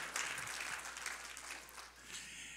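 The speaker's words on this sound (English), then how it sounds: "Now you clap back there." Audience clapping at a live gospel church concert, a steady wash of applause from a crowd lasting the whole moment, with a slight dip before picking up again.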